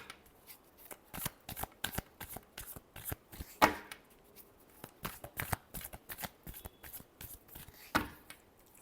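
Tarot cards being shuffled by hand in a quiet room, a steady run of crisp riffling bursts and soft slaps repeating close by, with no talk.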